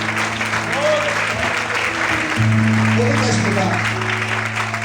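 A church congregation applauds during an evening worship service, steady clapping from many hands mixed with a loud sustained organ or keyboard chord and a voice calling over it.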